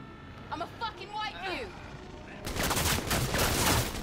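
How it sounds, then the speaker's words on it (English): Rapid bursts of automatic gunfire in the open-world game Cyberpunk 2077 erupt loudly in the second half, after a stretch of speech-like voices and ambient game sound. "they're trying to shoot me from behind this wall"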